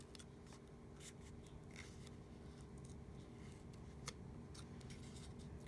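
Scissors snipping excess paper during a shaker card craft, a run of short, quiet, close-up cuts with light rustling and no talking.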